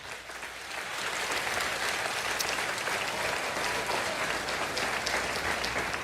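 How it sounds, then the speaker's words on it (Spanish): A church congregation applauds at a Spanish-English bilingual sermon, a dense, sustained wash of clapping that swells in after a quieter first second and holds steady throughout without any speech. "Alabe a Jesús si lo quiere hacer con ese aplauso"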